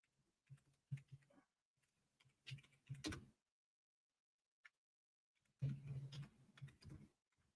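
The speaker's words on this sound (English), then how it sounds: "I'm just typing to Vicky." Bursts of keyboard typing, quick clustered clicks with a silent pause in the middle, fairly close and quiet; no talking.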